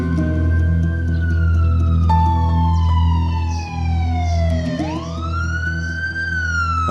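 Ambulance siren wailing in a street scene, its loud electronic tone sweeping slowly down and then climbing back up in long, continuous glides, with no talking.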